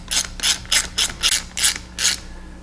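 Hand ratchet snugging up bolts on a 115 outboard motor, seven quick bursts of clicking at an even rhythm, close and clear with no talk.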